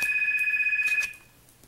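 A telephone rings in a quick electronic trill that holds for about a second, then stops and leaves a quiet room.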